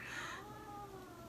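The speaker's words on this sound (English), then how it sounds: "Can you hear my cat growling at my kitty?" A cat gives a short, drawn-out growling vocalization indoors, close and fairly loud, lasting about a second with no talking.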